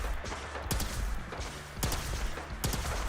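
Gunfire in the video game Fallout 4, aimed at a distant enemy in Far Harbor: three loud, sharp shots spaced roughly a second apart, each with a short decaying tail over a steady background hum.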